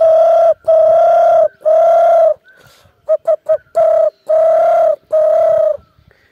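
Someone in Pyuthan, Nepal, imitates a dove's cooing, loud and close: a string of steady hooting coos, a quick run of short stuttered notes midway, then more long coos.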